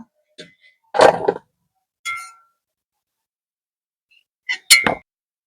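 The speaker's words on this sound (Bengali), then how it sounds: "আলুটা এখানে সেদ্ধ করে নিয়েছি। এবার একটা থালার মধ্যে নামিয়ে নেব।" Boiled potato pieces dropping onto a metal plate give a few separate clangs and clinks, a pair near the first second and a louder cluster near the end, with quiet gaps between.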